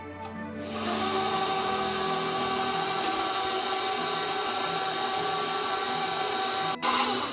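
A stand mixer beats eggs and granulated sugar with its paddle, starting up after a quiet moment and then holding a steady, close motor whir with a brief dip near the end, with no voices.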